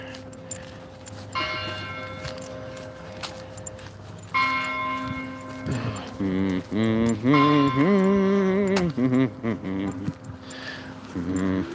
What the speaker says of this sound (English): Hear the church bells ringing.